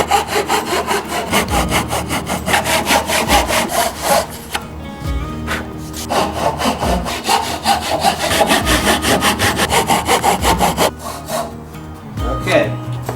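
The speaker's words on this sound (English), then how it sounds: "Now we're going to cut out the mortise part." A hand saw cutting through wood for the mortise of a bridle joint, with steady rapid back-and-forth rasping strokes, close and loud, pausing briefly twice before resuming.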